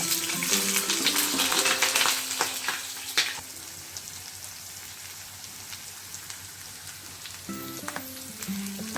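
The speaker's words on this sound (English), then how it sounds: "I'm going to add 2 sliced onions into the oil." Two sliced onions frying in hot oil, a soft, continuous crackling sizzle like light rain, with a few clinks of stirring near the start and the end.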